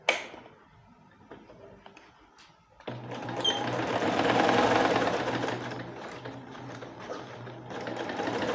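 A sewing machine stitches pieces of a peplum top together, joining the back to the front sides; after a quiet start with light handling noises it runs in a steady, close mechanical whir.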